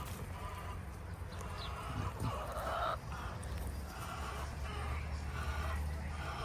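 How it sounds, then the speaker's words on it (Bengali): Some thirty egg-laying hens on a small farm in Italy, clucking in scattered calls over a steady outdoor background while feed is handed out, with no talking. "এখানে 30টার মতো মুরগি আছে, ডিম পাড়া মুরগি।"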